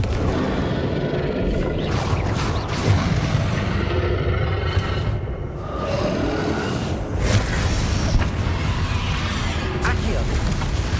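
Repeated Confringo spell blasts in Hogwarts Legacy, several loud booming bursts and crashes spread through a noisy combat mix, with voices talking throughout.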